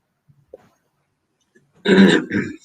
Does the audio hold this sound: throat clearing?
yes